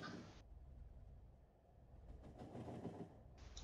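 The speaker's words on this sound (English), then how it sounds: "Okay, train's moving now." A train rolls along steadily in the factory-building game Factorio, a soft continuous low rumble with faint rail clatter, quiet and unaccompanied by talk.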